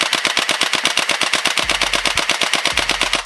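Yagee M762 gel blaster, a magazine-fed kids' toy, firing on full auto at a steady rapid rate of about eight shots per second, each crisp snap loud and close, with a low motor hum underneath and no voices.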